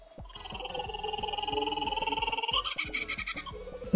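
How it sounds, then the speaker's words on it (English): A cartoonish kookaburra-like call in Fall Guys: Ultimate Knockout, a rapid, rising, pulsing cackle with bouncy music underneath, loud and close for about four seconds. "It's a kookaburra! It's a kookaburra, that's his fucking animal friend."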